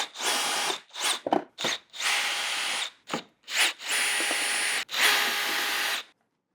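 A power tool whirs in repeated bursts, some brief and others held for about a second, as 8 mm screws come out of a car fender liner during a BMW F32/F33 fender swap.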